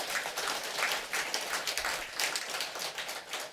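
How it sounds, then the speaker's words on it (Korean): An audience at a Buddhist dharma service claps steadily and continuously, a moderately loud, even burst of applause with no talking over it. "박수 쳐주세요."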